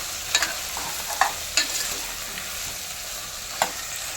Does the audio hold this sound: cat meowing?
no